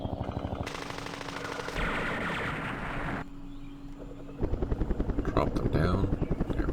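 Helicopter gunships in a Vietnam War strategy video game, rotor drone with bursts of machine-gun fire in shifting layered segments, loud and steady, with a voice briefly talking over part of it.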